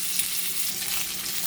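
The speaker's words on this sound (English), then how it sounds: "Just let it cook skin side down" Chicken quarters frying skin side down in a Lodge cast iron skillet give off a steady, dense sizzle and crackle. The sound is close and even, with no talking.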